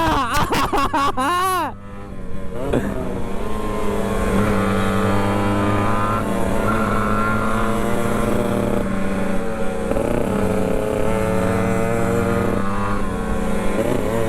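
A motorcycle, either a Yamaha RX King or a Kawasaki Ninja, revs and accelerates at full throttle in Tana Toraja, loud and close with a rising then sustained engine roar.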